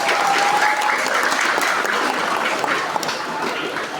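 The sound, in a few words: audience applause at a school event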